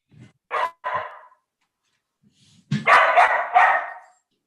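Dogs bark in a few sharp separate yelps, then a louder burst of overlapping barking, close by in an indoor room during a committee meeting.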